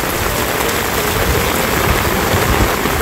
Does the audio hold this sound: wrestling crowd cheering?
no